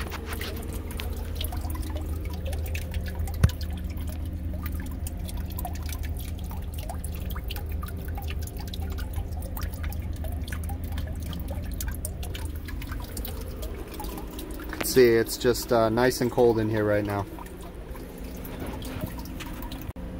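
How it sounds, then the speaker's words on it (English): Meltwater from an iced-up cooling unit with a partially frozen drain pan drips into catch pans below, as sparse, faint scattered drips over a low mechanical hum, with someone talking briefly near the end. "the drain pan's partially frozen over here too, so we just got pans down there to catch everything."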